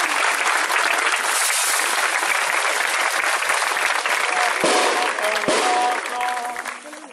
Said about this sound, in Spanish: Un aplauso a Santa Rita.